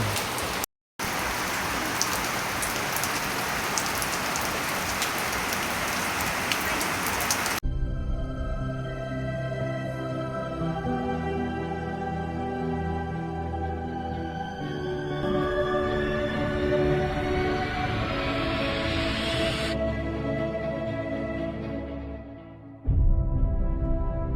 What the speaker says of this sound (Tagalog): inabutan na tayo ng malakas na ulan habang tayo nag-iihaw dito sa rooftop